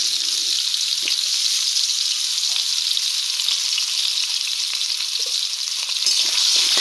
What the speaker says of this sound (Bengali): তেলটি গরম হয়ে যাওয়ার পর পরিমাণ মতো নুন কিছু হলুদ গুঁড়ো দিয়ে দিল। আলুগুলো ভাজবে তার জন্য